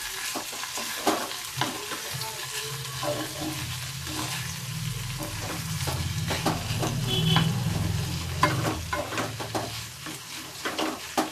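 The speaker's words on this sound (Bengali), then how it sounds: "এবার এইটা দিয়ে একটু কিছুক্ষণ নাড়বো।" Grated paneer and papaya chenchki frying in a pan while being stirred, a continuous close sizzle with scraping stirring strokes and occasional utensil clinks, no voices.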